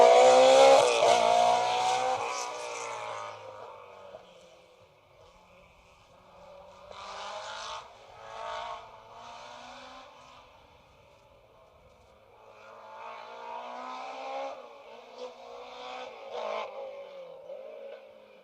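A BMW rally car heads to a rally stage in the Western Isles, its engine rising loud and close at first, then fading and returning in revving bursts at a distance.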